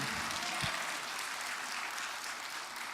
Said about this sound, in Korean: 마음껏 그 은혜의 주님 앞에 큰 박수로 영광을 돌렸으면 좋겠습니다